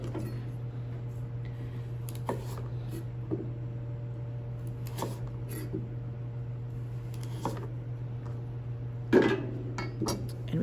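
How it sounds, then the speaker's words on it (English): A knife squaring off a round piece of vegetable on a cutting board, with a few sparse, soft taps and knocks against the board over a steady low hum, one firmer chop near the end, no speech. "I can continue to square off this round piece of vegetable"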